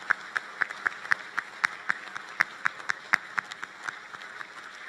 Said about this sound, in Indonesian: marilah kita berikan tepuk tangan yang luar biasa sekali lagi untuk kepada Pak Bahlil